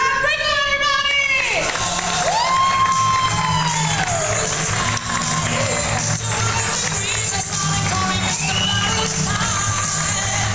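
Comedy club crowd at Rick Bronson's House of Comedy in the Mall of America, Minneapolis, cheering and whooping loudly, with sustained clapping and shouts blending into a dense, lively roar.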